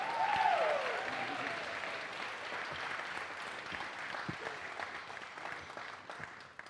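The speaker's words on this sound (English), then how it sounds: "Let's give a huge round of applause for this year's 2021 John Philip Sousa Award," Applause for a Sousa Award winner at a high school spring band concert, a steady, fairly faint patter of clapping from a seated audience in a hall, slowly fading toward the end.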